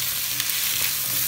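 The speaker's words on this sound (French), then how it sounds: "je vais y mettre les chouchous, puisque ça a bien roussi, là, mes épices" Chayote pieces drop into a hot pan of well-browned spices and sizzle, a loud steady frying hiss with faint bumps as the vegetable settles, no talking.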